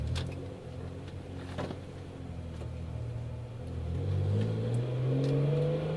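A car's engine rumbles steadily from inside the cabin as it pulls into a post office parking lot, a low hum that rises slightly toward the end with no talking.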